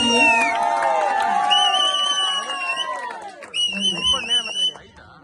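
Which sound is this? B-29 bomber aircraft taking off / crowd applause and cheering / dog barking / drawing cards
crowd applause and cheering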